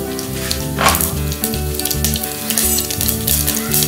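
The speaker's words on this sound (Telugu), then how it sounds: "ఆవాలు, జీలకర్ర వేసుకోవాలి." Mustard seeds and cumin sizzle and crackle steadily in two spoonfuls of hot oil in a pan, a close, continuous frying hiss with no talking.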